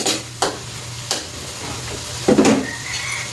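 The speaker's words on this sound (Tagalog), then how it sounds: "Tapos haluin natin." Eggs and corned beef are stirred in a sizzling frying pan, with a few sharp utensil scrapes and taps against the pan over a steady low frying hiss, close and fairly quiet.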